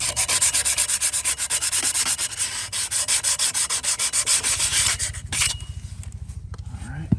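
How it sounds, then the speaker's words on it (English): Emery cloth rubs over a metal part from an HR214 mower's clutch in quick, steady back-and-forth strokes. The strokes are loud and close, then slow into a few heavier, separate rubs at the end. "I'm just gonna grab some emery cloth or some sandpaper and clean this up a little bit"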